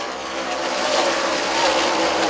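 Race cars at Birch Run accelerate back to speed after a restart, producing a continuous loud roar of engines that swells slightly as they pass.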